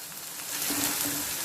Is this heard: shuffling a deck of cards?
no